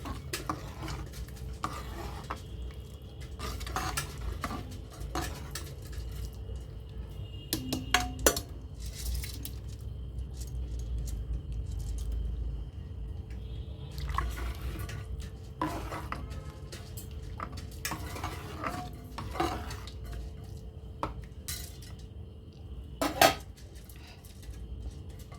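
Coconut milk rice stirred in a metal pot, with a steady run of spoon scrapes, clinks and knocks against the pot over a low background hum, close and moderately quiet.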